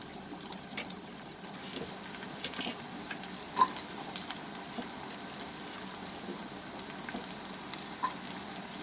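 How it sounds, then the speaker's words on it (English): Chopped onions frying in a pan over a medium flame, a soft continuous sizzle with faint crackles and occasional stirring clicks, quiet and close, with no talking. "And we will now cook this onion for a few seconds."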